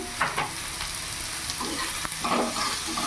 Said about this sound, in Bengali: ভালো করে নাড়াচাড়া করে ভাজা ভাজা করে নেব